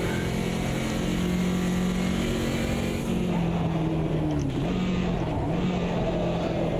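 Road car engine in Automobilista 2 multiclass racing, a loud, steady droning whine that shifts pitch as revs drop and rise through a corner, close and continuous with no talk.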